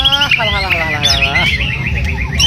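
A white-rumped shama sings loud, rich whistled phrases with quick rising and falling notes, close by over a constant low background hum.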